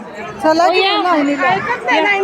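A crowd hubbub fills the grounds of the Jotiba and Mahalakshmi temple, with many overlapping voices chattering close by at a steady, busy level.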